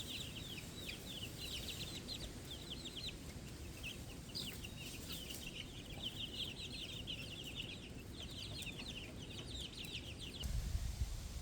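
Chickens clucking and chattering in soft repeated bursts, moderately distant, over a steady low outdoor rumble; a louder thump near the end.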